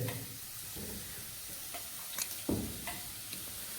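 Chopped onions sizzle in a hot pan, a steady frying hiss broken by a few clinks and scrapes of stirring, close and without talk.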